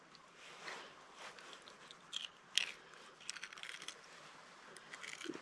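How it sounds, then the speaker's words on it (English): A spoon on the end of a knife scrapes the bloodline from inside a cleaned trout, giving faint, close, irregular scratchy crunches and wet scrapes in short bursts against a quiet background. "So you can use that spoon to stick right in here and scrape out that bloodline"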